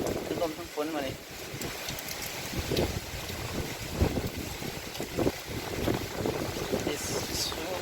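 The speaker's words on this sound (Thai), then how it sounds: "คือลมทั้งฝนมาเลย" Typhoon Noru's wind and rain roar across the microphone in a steady, blustery wash, with gusts and buffeting throughout and people talking over it.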